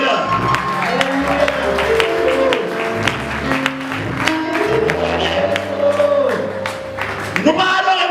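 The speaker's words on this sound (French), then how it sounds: "Applaudissez le Seigneur." A church congregation claps for the Lord amid crowd noise, with a sharp burst of clapping, sung or spoken voices and sustained instrumental tones throughout.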